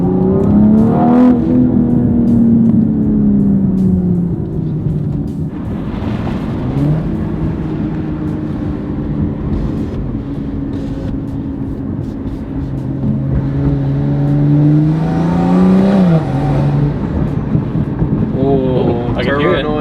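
A turbocharged BMW M340i with an upgraded turbo revs and drones at close range over about twenty seconds, engine pitch rising and falling with wind noise, while people talk over it.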